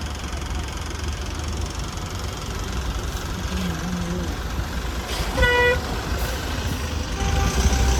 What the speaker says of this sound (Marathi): सो ह्या ट्रकमुळे ट्रॅफिक होतं